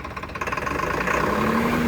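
A steady, loud Swaraj tractor engine drones close by, its pitch rising as it revs up like a big truck engine, with a rough, throbbing rumble underneath.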